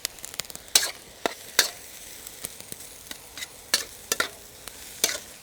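A spatula scrapes and clinks against a wok as food with a dash of soy sauce is stirred, sharp irregular metallic taps over a low frying hiss, no voices.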